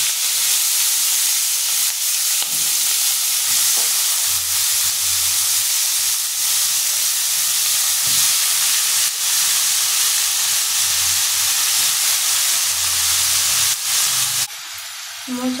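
Banana flower (mocha) added to hot oil in a pan with already fried potatoes, giving a loud, continuous hiss and sizzle that holds steady before cutting off abruptly near the end.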